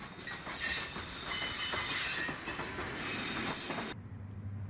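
D&H freight train run by Susquehanna on former Central New Jersey tracks, a steady rumble of passing cars with rhythmic wheel clatter and faint squeal, cutting off abruptly near the end to a low hum.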